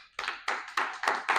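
A church congregation claps together in five loud, rhythmic bursts, close by and in unison, with no talking over them.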